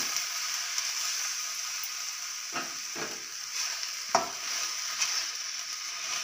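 Moringa leaves fry in a pan for a dal-style tovve, giving a steady close sizzle and hiss with a few soft stirring scrapes scattered through it.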